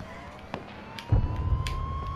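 A police siren in the video game H1Z1 wails faintly in the distance as a slow rising tone, under scattered thumps and a low rumble of game noise.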